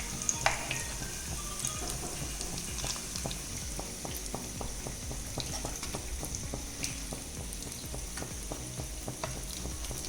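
Eggs frying in hot oil for an egg chilli, a steady crackling sizzle with dense spattering pops continuing evenly and close by, no voices.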